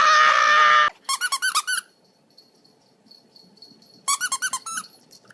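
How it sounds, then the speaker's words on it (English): Dog's squeaky toy squeaked in two quick bursts of about five high, sharp squeaks each, close and loud, after a brief loud noise at the start, with no talking. "Do you like squeaky toys?"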